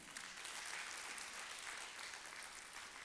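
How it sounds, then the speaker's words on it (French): Applause at a ministry of commerce staff ceremony in Senegal: a steady wash of crowd clapping, faint and distant, holding evenly for about three seconds. "je vous demande d'applaudir"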